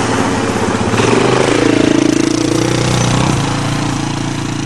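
A Can-Am 800 quad engine runs close by, a steady throbbing mechanical drone that swells in revs partway through, then settles back to a rough, even idle.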